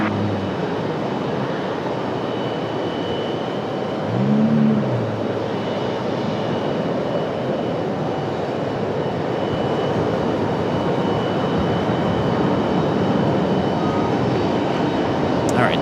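A jet airliner powers up for takeoff on runway 23 left at Raleigh-Durham airport, a loud continuous broadband engine roar holding steady throughout, with a brief tonal swell near the start.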